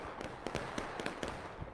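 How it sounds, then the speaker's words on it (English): Distant cannon and gunfire in a Civil War video game battle, a rapid scatter of sharp booming cracks at irregular intervals over a steady battle din. "you saw a Confederate cannon shot miss and go right through their friendlies"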